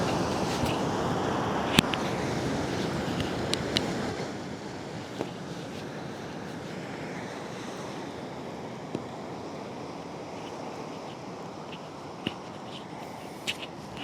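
Ocean waves washing in at the shore, a steady broad rush of surf with wind buffeting the microphone, louder for the first few seconds then settling lower, with occasional sharp clicks.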